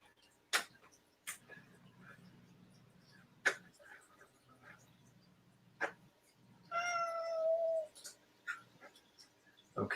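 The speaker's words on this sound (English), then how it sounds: "Hear the cat meowing." A pet cat meows in a clear drawn-out call with stacked harmonics near the middle, heard close in a quiet room, while a low steady hum and scattered clicks and taps run underneath.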